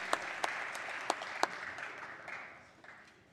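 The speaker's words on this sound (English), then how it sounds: "So round of applause for Allegheny County." Sparse applause in a House floor session, a few sharp individual claps up front followed by a faint, thinning patter that fades out, quiet and somewhat distant.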